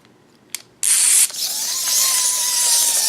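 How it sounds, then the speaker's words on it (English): A pull-cord toy drill whirs into a fast, high spin after a couple of clicks, its whine holding steady and loud for a few seconds. "And, the drill spins."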